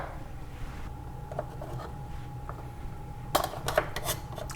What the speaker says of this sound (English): chop up a few of these olives